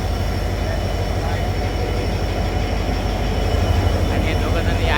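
A train arrives at a railway station on the way to Hingoli, giving a loud, continuous rumble with a steady rhythmic clatter of wheels that barely changes over the five seconds.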